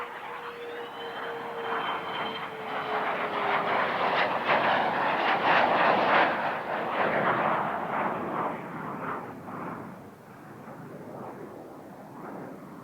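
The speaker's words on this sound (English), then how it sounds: "Endeavour rolling out on runway 22 at Edwards Air Force Base, California" Space Shuttle Endeavour rolls out on runway 22 at Edwards Air Force Base, California, after landing from STS-111. A continuous loud roar comes with a high whine that slowly falls in pitch, then the sound gradually eases off.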